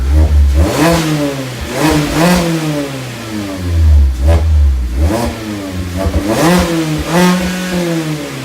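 A 2019 Mazda MX-5 ND engine with a new Invidia Q300 exhaust revs repeatedly in loud, rising surges with a deep exhaust rumble, dropping back to idle between bursts.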